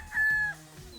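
A young gamefowl stag on a game farm lets out one short, clear call, close and alone, lasting under a second.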